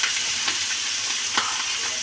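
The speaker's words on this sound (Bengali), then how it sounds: "চিংড়ি মাছটা ভালো করে ভেজে নেব।" Prawns fry on a hot tawa, giving a loud, close, continuous sizzle with occasional sharper crackles and stirring scrapes, and no voices.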